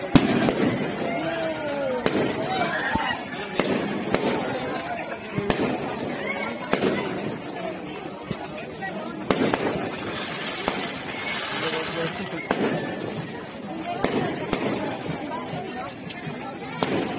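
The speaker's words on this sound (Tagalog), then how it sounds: "Fireworks na sila." Fireworks crack and boom repeatedly at irregular intervals at a town fiesta in Cainta, Philippines, after a concert, with a murmuring crowd beneath the bursts.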